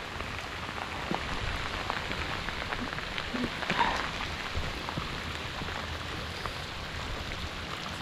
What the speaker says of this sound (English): See, sometimes it pays to fish in the rain.